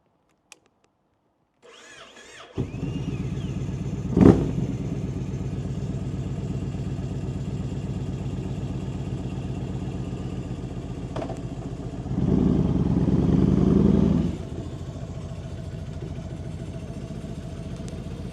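A Yamaha Stratoliner 1900 motorcycle engine starts up and settles into a steady, loud idle, with a brief revving surge near the end before easing back down.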